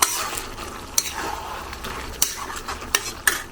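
Ginger-garlic paste fries in a pan while a utensil stirs and scrapes it, a continuous sizzle punctuated by sharp clinks of metal against the pan.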